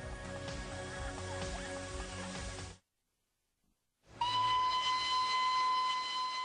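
A Darjeeling Himalayan Railway steam locomotive leaving Siliguri station sounds its whistle, a sustained tonal blast over rumbling train noise, broken by a brief silent gap before a louder, clearer whistle resumes.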